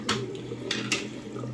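Hot water is poured from a faucet to soften shaving soap, a soft, brief splashing with small drips, quiet and close.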